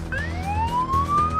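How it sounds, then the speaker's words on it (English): An ambulance siren wails with a steadily rising tone as paramedics drive to an emergency with lights and sirens, sounding loud and continuous over engine rumble. "Paramedic partners Erica and Taz are now being sent lights and sirens."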